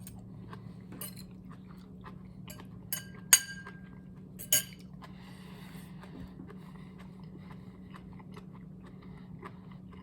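Crunchy bok choy kimchi bitten and chewed, giving a couple of sharp, brief crunches and light clinks close by over a steady low background hum, with no talking.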